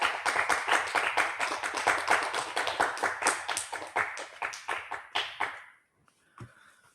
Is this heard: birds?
no